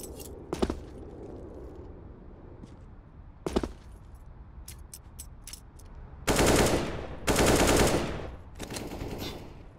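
Gunfire from a Counter-Strike wallbang in a Gambit vs Na'Vi pro match: a few isolated sharp shots early, then two loud, dense bursts of rapid automatic fire near the end over a low background hum.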